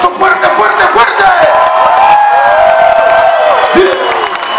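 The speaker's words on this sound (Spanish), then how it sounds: "familia, un aplauso fuerte, fuerte, fuerte" A loud concert crowd at El Gran Silencio's outdoor show at the Explanada de los Héroes cheers, whoops and applauds continuously, with sustained shouting voices and a bright wash of clapping throughout.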